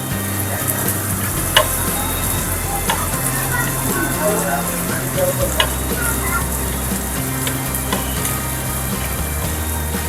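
Elephant foot yam slices coated in semolina fry in a pan, a loud, dense, continuous sizzle close up with occasional faint taps of a utensil.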